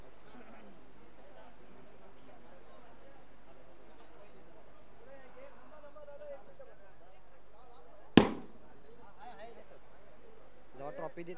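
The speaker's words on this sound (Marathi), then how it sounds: "फटाक्यांची आतिषबाजी या ठिकाणी होत असताना आपल्याला पाहायला भेटते" Fireworks and firecrackers at a cricket premier league prize ceremony in Shahuwadi taluka, heard as a single sharp, loud blast that stands out against a steady crowd murmur and announcer's voice.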